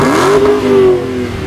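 Two 2015 Dodge Hellcat Challengers rev together, a loud, close, rising engine roar that holds a steady pitch and then eases off slightly.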